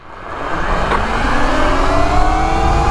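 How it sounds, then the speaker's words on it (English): A Mazda MX-5 on ground-wire motorcycle tires and a motorcycle on stock tires accelerate together in a drag race, engines climbing steadily in pitch and loudness over about three seconds, close and continuous with no talking. "we're doing more drag race testing"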